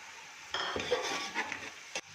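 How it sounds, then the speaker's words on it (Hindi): A spoon scrapes and stirs soaked tamarind and spices sautéing in a pot for chana pulao, faint sizzling under a few soft metallic scrapes and a brief clink near the end. "और अब हम इसको अच्छे से भूनेंगे।"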